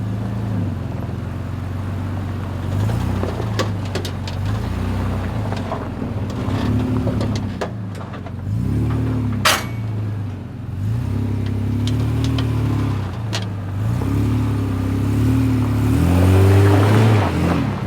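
A 4x4 climbing an off-road track at The Springs 4x4 Park in Queensland, Australia, its engine droning steadily with rising and falling revs as it crawls, plus occasional knocks and clatters from the rough ground.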